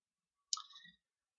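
A single short computer mouse click, sharp and close, in an otherwise silent moment.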